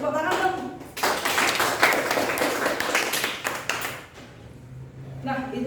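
A burst of classroom applause and clapping lasting a few seconds, between stretches of a person talking before and after.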